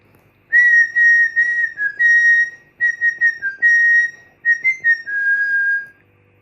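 A single person whistles the València football club anthem, a clear, loud melody in short and sustained phrases with brief breaths between them, close by and alone.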